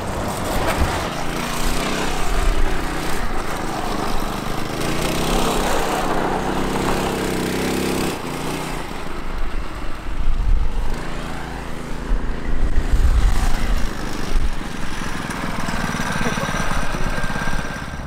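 A go-kart built from a shopping cart runs its small engine continuously, a loud buzzing drone that rises and falls with revving, with no talk.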